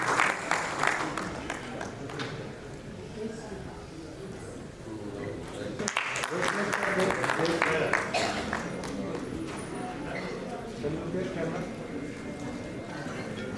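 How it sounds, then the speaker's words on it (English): An audience at a radiation oncology conference applauds with a steady patter of clapping that swells midway and continues, while people talk in the background. "So we all should clap for him"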